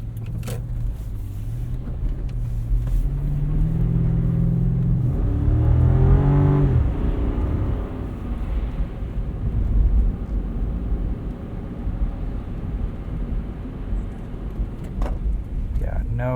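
Lexus GX 460 on Cooper Discoverer AT3 4S all-season tires driving through light slush on snowy pavement, a steady low engine and tire drone rising and easing, with a person talking over it.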